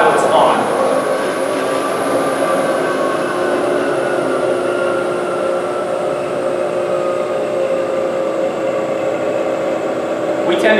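A milling machine in high gear at about 1240 RPM cuts aluminum in a robotics workshop, producing a loud, steady whirring hum with sustained tonal whine that holds unchanged for the whole stretch.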